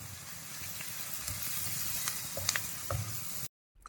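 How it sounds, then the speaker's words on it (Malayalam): Onion sautéing in a pan with a pinch of salt, stirred by hand, steady frying hiss broken by a few soft scraping strokes, up close, ending abruptly in silence. "സവാള നന്നായി വഴന്ന് വരുന്നതുവരെ നമുക്ക് ഇളക്കി പാകം ചെയ്യാം"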